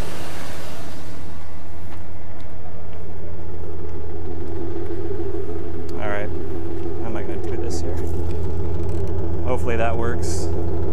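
Steady low car engine idle at the tailpipe during a head gasket leak test, a continuous rumble running throughout with brief faint chirps and clicks near the end.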